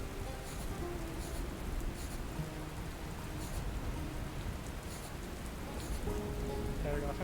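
Heavy rain falls steadily in the video game Dustland Delivery, a dense, constant hiss of drops on surfaces that never lets up, with faint patters and a few soft tonal blips layered over the downpour.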